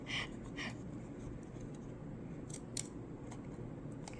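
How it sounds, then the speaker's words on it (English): Scissors snip quietly through paper while luggage tags are cut out, with soft crisp cuts scattered over a faint background hiss. "Smaller scissors might help too, or better scissors might help."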